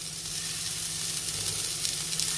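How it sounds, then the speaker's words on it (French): Mozzarella-stuffed meatballs sizzle in a frying pan with no added fat, a steady close hiss holding even for the whole stretch with no talk. "je peux maintenant les incorporer directement dans la poêle. Et je vais commencer une cuisson sans matière grasse."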